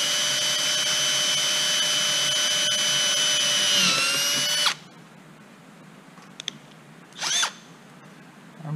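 A number 30 drill bit boring a hole for a vertical stabilizer part of an RV-14A aircraft build, a loud steady whine that drops as the drill slows, then stops abruptly, followed by quieter handling clicks and a short second burst.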